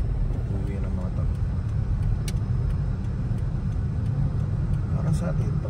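Steady road traffic in the Olaya district of Riyadh at night, a continuous low rumble of cars with no break and a few faint higher clicks and whooshes, heard from close inside the flow.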